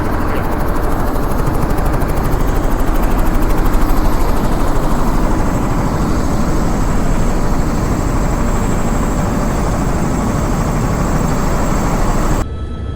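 Helicopter in flight and coming in to land in snowboarding country, a loud continuous rotor and engine roar filling the whole stretch with steady thumping, close and unbroken until it cuts off sharply at the end.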